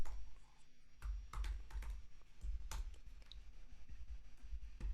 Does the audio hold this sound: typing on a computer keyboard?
yes